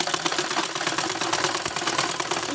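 A sewing machine runs a fast, continuous stitch close up along the edge of a school uniform belt, a busy mechanical whir with no talking.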